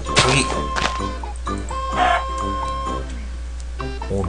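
A chicken in the video game Minecraft clucks in a short series of close, clear calls over a steady low background hum.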